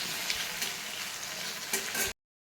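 Masala of ginger, chili, cumin, coriander powder, Kashmiri chili powder and turmeric frying in a pan, a steady close sizzle with a few stirring scrapes, cutting off abruptly near the end.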